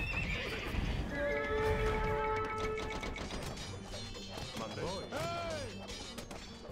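Horses neighing and whinnying in the real-time strategy game Age of Empires II: Definitive Edition, several shrill calls over busy battle clatter and hoof clip-clop, with a steady mix of game noise throughout.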